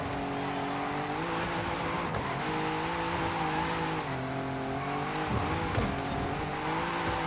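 A car in Forza Horizon 5 braking and sliding, a steady engine drone with wavering tire squeal across the whole stretch, close and continuous with no talk.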